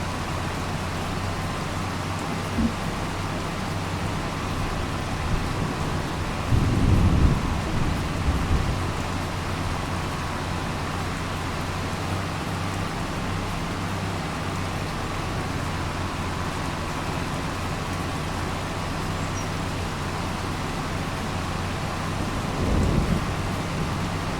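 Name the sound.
rain and thunder outside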